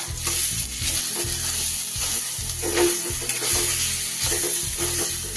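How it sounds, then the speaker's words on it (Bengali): Ground chana dal paste sizzles loudly and steadily in hot tempered oil, with rhythmic scraping and stirring strokes repeating throughout. No one speaks. "এবার আমি বেটে রাখা ডালটা এর মধ্যে দিয়ে দেব"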